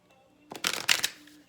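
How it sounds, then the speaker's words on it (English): A deck of cards being shuffled close by, one quick riffle burst of crisp papery flutter lasting under a second, with quiet room tone before and after. "Let me get this deck. Correct for neutrality on all levels. 2 shuffle"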